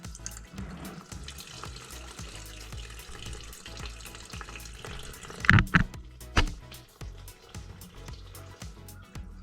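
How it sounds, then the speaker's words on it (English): Fuel gushes from the fuel hose of a Honda CT70 during a fuel hose upgrade, a steady splashing, trickling pour with a few louder gurgles and knocks, close by and with no talk. "Now we're draining fast."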